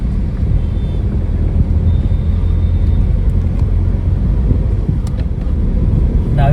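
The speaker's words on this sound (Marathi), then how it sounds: "बऱ्यापैकी ट्रॅफिक आहे." Steady road traffic on the old single-lane Mangaon stretch of the Mumbai–Goa highway, a continuous loud rumble of passing vehicles heard from close by with wind buffeting the microphone.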